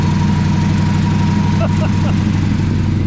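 An engine coming off a high idle runs with a loud, steady low rumble and even throbbing pulses, close up and continuous throughout, with a light tick partway through.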